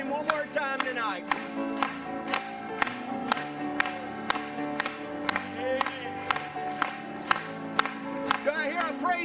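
Church congregation clapping in a strong, regular rhythm during a worship song, loud and close, with music and singing running underneath the beat.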